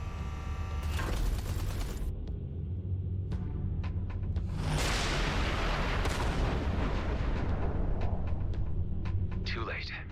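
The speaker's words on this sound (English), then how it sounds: "Watch out! The artillery!" Artillery in the space combat game Everspace 2 booms and rumbles in heavy overlapping blasts, with sharp crackling impacts and a dense low roar beneath, loud and continuous.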